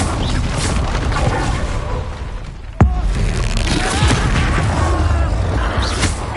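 An Expulso spell detonates in Hogwarts Legacy as a single sharp, loud blast cracks out mid-clip amid busy battle noise and rumbling effects, its echo trailing into the ongoing clamor.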